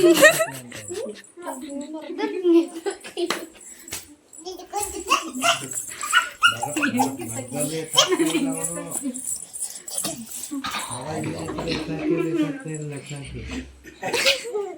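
A dog whimpers and yips close by while people talk over it almost continuously, with a faint jangle in the background.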